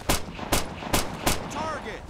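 Gunfire from the video game Operation Flashpoint: Dragon Rising, four sharp evenly spaced loud shots about half a second apart, with a brief metallic ring trailing at the end.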